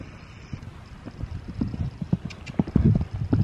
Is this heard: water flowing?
no